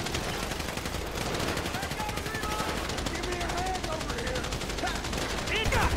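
Rapid automatic gunfire rattles continuously in the GTA 5 video game during a shootout, a dense fast rhythm of shots with game sound effects and voices speaking underneath.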